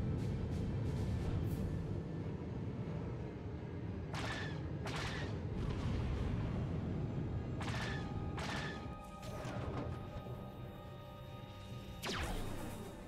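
Several sharp, crackling shots from a space-combat video game, scattered blasts in quick pairs and singles over a dense, rumbling engine drone.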